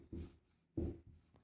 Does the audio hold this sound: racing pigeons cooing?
no